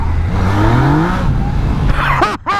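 Yamaha Niken three-wheeled motorcycle engine revving hard through a drift, a loud rising and falling whine with possible tire noise, near and continuous, cutting out briefly at the end.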